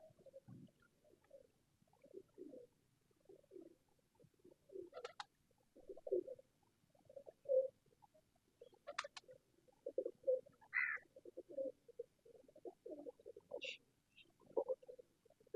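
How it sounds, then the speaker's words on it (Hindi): Paired pigeons kept in a rooftop loft coo softly and repeatedly, with low burbling calls scattered throughout, occasional brief higher chirps and small flutters, all fairly faint and distant. "पेयर्स वाले कबूतर दिखाए जा रहे हैं आपको"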